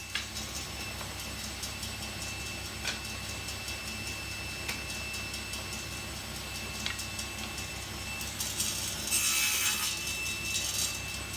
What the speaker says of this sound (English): Here I'm cutting up the seat slats.